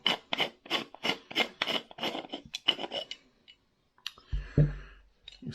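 Top of a massive 1957 SA6060 flashlight torch being unscrewed, heard as a run of about ten close, rhythmic rasping metal scrapes, then a brief pause and a soft clunk and rub at the end.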